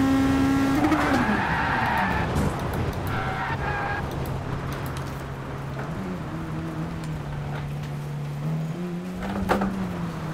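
A race car in Gran Turismo Sport revs up through its gears, engine whine climbing and dropping as the tires squeal briefly, then settles into a sustained drone with a sharp skid near the end.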